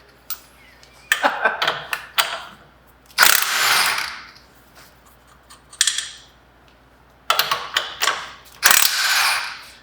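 Power ratchet loosening lug nuts on a 1946 Chevy truck fires in several bursts of rapid clicking and whirring, close and loud, separated by short quiet gaps.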